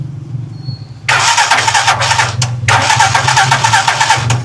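Car engine that has sat unused for a month is started: a starter cranks briefly, then the engine catches into a loud, rough, close running roar.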